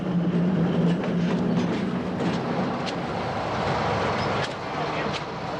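A narrow-gauge train on the Zillertal railway's 2-foot private track in Austria rumbles steadily along, with a continuous rolling roar and scattered wheel clicks and squeals, fairly loud and close throughout.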